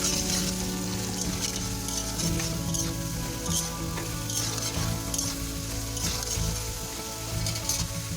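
Potatoes fry in hot oil in a wok, a dense, steady sizzle with crackles and occasional stirring scrapes, close and continuous for the whole stretch, with no voices.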